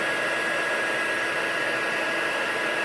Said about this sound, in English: I turn my embossing tool off. It gets very hot, so be careful not to burn yourself.